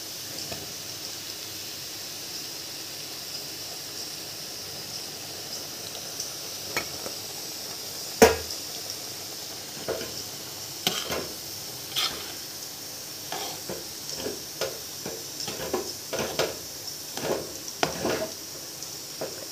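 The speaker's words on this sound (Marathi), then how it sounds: "आपलं जे तूप उरलेलं आहे त्याच्यामध्येच आपण हे छान भाजून घ्यायचं आहे" Besan being roasted in ghee in a pan, with soft steady sizzling and frequent scrapes and taps of a spoon stirring against the metal, growing busier toward the end.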